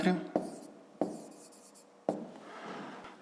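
A pen writes out a fifth-grade maths exercise by hand, with scratchy strokes in short bursts and sharp taps where the pen meets paper, close and clear, broken by brief pauses.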